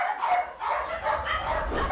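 Several dogs bark and yip in a cluttered indoor space, a neglected group kept in poor condition on a hoarder's second floor, a few overlapping woofs standing out over a low steady rumble.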